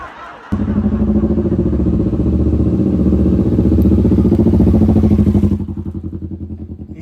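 A motorcycle engine starts up abruptly and runs with a steady, throbbing rumble for several seconds before dropping back to a quieter idle.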